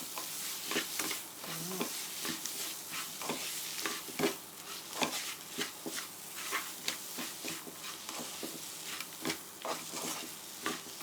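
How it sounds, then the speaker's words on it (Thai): Chili paste with dried shrimp being stir-fried in a pan, a steady sizzle broken by repeated scraping and stirring strokes of a spatula, close and moderately loud, with no talk over it. "ผัดแค่พอให้เข้ากันก็พอค่ะ"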